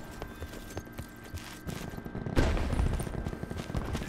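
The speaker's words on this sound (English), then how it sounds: "There's a lot of firing going on" Rapid gunfire in Call of Duty Black Ops 4, bursts of sharp shots in quick succession that build louder and denser partway through, a sustained close firefight.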